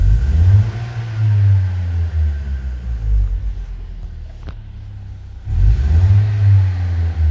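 A Lexus IS200T with its axle-back mufflers deleted revs loudly up close, with a deep droning rumble that rises, falls back during a brief lull, then surges again.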